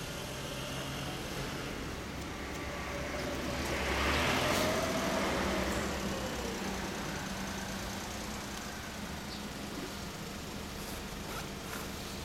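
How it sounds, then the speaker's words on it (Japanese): A 2002 Honda X4 (SC38) motorcycle idles with a TSR exhaust, a steady low rumble that stays even throughout and swells briefly in the middle, with no talking. "エンジン音だけ聞かせて。"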